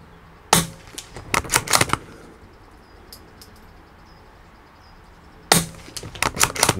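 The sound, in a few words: gunshots from a Rossi 8122 .22 LR rifle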